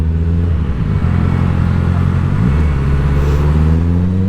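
An overheating motorcycle engine running on the road, a loud continuous rumbling hum with steady low tones and a slight shift in pitch midway, no voices.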